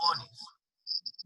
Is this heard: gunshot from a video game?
no